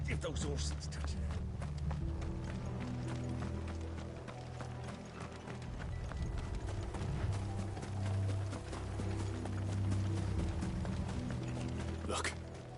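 Horses' hooves clatter in a steady, continuous clip-clop rhythm in Final Fantasy XVI. The hoofbeats run beneath a dense layer of game ambience and what sound like voices.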